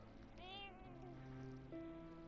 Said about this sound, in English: And apologies for the cat.